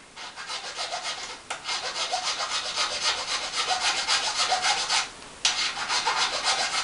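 Bearings being filed down by hand to fit between locomotive frames: a steady, continuous rasping rub in long strokes, fairly close and loud, broken by two short pauses with no voices.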